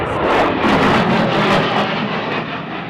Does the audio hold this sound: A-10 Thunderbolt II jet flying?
yes